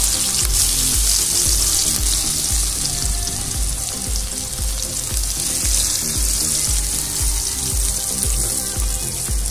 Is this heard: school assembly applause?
no